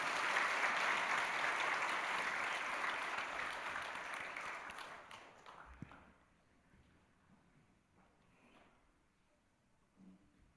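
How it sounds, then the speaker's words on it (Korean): Congregation applause during a church worship service after a children's choir performance, a loud steady clapping that tapers and fades over about six seconds into near quiet. "우리 다시 한번 큰 박수 부탁드리겠습니다"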